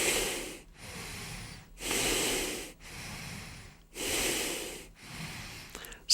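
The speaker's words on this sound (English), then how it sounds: "Full deep breathing" Full, deep breaths during an ashtanga yoga hold, five long airy inhale-exhale cycles in a slow, even rhythm, close and fairly loud with short quiet gaps between them.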